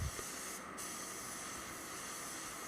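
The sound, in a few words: spray gun spraying paint on BMW M3 panel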